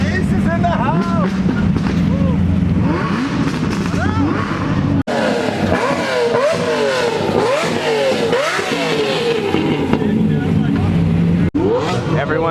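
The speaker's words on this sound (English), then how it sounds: "Everyone's in their car, everyone's revving, getting ready to roll." Several cars, one of them a twin-turbo Lamborghini Huracan, revving their engines together before setting off. The engine notes rise and fall over and over, loud and close, and people talk beneath them.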